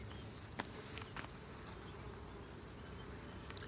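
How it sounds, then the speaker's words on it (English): Honey bees swarm thickly around an open hive during an inspection, a faint steady buzzing drone with a few soft clicks. "There's a ton of bees, of course."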